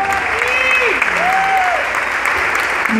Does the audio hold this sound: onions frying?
no